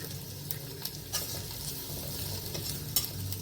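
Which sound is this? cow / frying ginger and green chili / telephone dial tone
frying ginger and green chili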